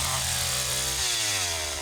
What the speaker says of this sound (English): start my chainsaw